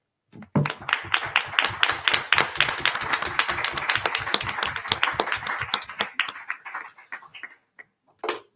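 Applause at an Italian architecture talk honoring the late Professor Luigi Mazza: a small audience claps in a fairly rhythmic, sparse pattern, then thins out to a few scattered claps before stopping.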